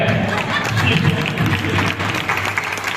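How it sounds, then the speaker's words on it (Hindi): An audience claps at a teachers' day celebration, a dense steady patter of hands that holds for the whole stretch with a voice faintly underneath. "आप ताली जरूर बजाइए।"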